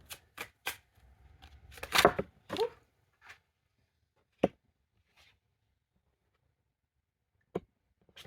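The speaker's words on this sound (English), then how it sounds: "So I'm just gonna shuffle some more" Tarot cards are shuffled by hand in short riffling bursts, then a few sharp, isolated taps and flicks separated by quiet pauses, close up.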